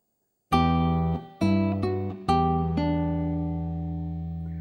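Guitar playing measure 19 of Minuet in G: four plucked notes with bass and treble together, the final one left ringing and slowly fading, close and clear with no talk.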